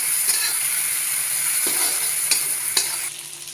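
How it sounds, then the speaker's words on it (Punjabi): Tomatoes and masala roasting with salt in a pan for restaurant-style masala bhindi, giving a steady close sizzle of frying with a few scraping stirs of a spoon. "ਇਸ ਨੂੰ ਆਪਾਂ ਭੁੰਨਾਂਗੇ ਨਮਕ ਪਾਣ ਦੇ ਨਾਲ ਜਿਹੜੇ ਟਮਾਟਰ ਨੇ ਉਹ ਜਲਦੀ ਸੌਫਟ ਹੋ ਜਾਣਗੇ"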